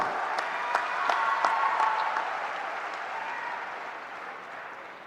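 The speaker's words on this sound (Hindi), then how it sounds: "अरे इस पे जोर से ताली बजाओ।" Crowd at a political rally clapping together, a dense sustained wash of applause with a few sharper claps early on, gradually fading toward the end.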